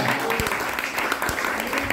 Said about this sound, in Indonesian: Ayo kita tepuk tangan bagi Tuhan.